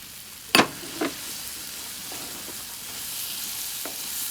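Fresh asparagus is dropped into a vegetable paella cooking in a pan on an outdoor grill, a sharp crackle followed by a smaller one, then a low steady sizzle continuing underneath.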